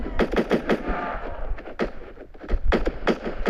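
Rapid bursts of gunfire in a Roblox shooting game with unlimited ammo, sharp repeated shots in quick rhythmic volleys with short pauses between, loud and close.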